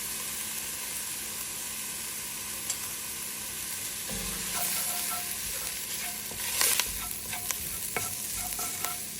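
Spices, garlic and onion for white chicken chili frying in a pot, a close, continuous sizzle and hiss with occasional stirring scrapes and small pops throughout.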